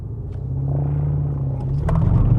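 A new BMW M5 engine revs up and roars as the all-wheel-drive car launches from a standstill, a steady low rumble that swells louder toward the end.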